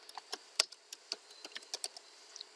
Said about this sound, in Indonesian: saya mengetik keyboard